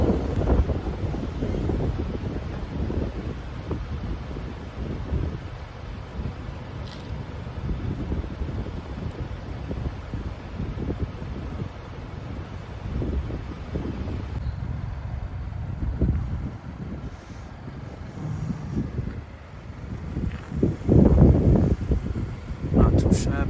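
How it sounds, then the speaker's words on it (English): Strong wind buffets a microphone outdoors while someone fits cosmetic mods to a 2021 Mazda3 Turbo, a continuous low rumbling gust noise with louder surges near the end, and a voice speaks intermittently over it. "It's pretty windy out here."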